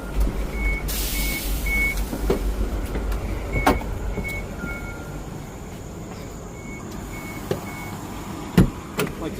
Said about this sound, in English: that beeping tells me that the pre-trip cycle has started